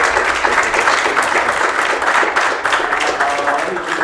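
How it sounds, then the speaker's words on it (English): An audience at a Startup Grind event in Bratislava gives sustained, loud applause, a dense wash of many hands clapping throughout, with faint crowd murmur underneath. "And ladies and gentlemen, please give a round of applause to Filip Fischer."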